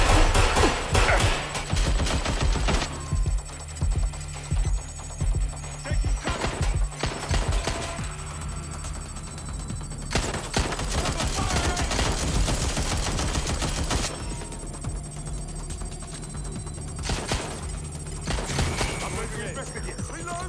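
Gunfire in the video game Watch Dogs Legion, with loud bursts of rapid automatic shots and single cracks repeating throughout, broken by short pauses, alongside game sounds and voices.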